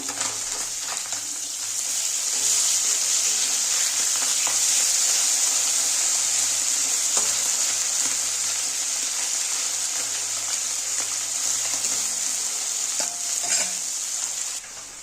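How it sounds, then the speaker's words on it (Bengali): Small fish frying in hot oil in a pan while being flipped, a loud, steady sizzle with stirring scrapes that holds throughout, close and alone without talk. "দেখো মাছটা এবার উল্টিয়ে দেবো।"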